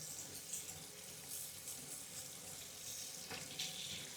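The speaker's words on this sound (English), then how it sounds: "After which we have to wash our hands." A tap running steadily while hands are washed, a continuous hiss of water at a sink with light splashing, no talking.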